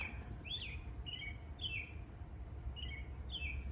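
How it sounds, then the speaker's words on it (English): Several short bird chirps ring out at intervals over a steady low background rumble, moderately distant and fairly faint. "You hear that bird making fun of me?"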